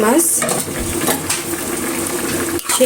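Shing fish going into a bubbling tomato curry in a pot. Loud, steady sizzling and bubbling runs through the clip, with scraping and clinking of utensils against the pan.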